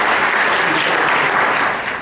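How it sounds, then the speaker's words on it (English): Steady, loud applause from a career fair audience fills the whole stretch without a break, then eases off slightly at the very end. "let's give him a round of applause"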